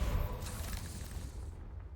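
A Confringo explosive spell blasts in Hogwarts Legacy, a loud booming burst at the start that rumbles and fades over about two seconds, with a hissing tail and no voices.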